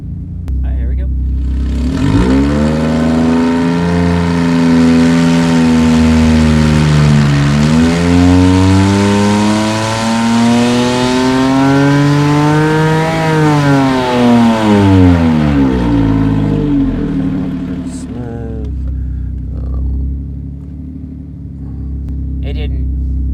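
A Porsche 997.1 with a naturally aspirated 4.1-litre flat-six revs hard on a dyno, climbing steadily in pitch to near 8,200 RPM, dipping briefly, then climbing again before cutting off; loud and close, running alone for about fifteen seconds.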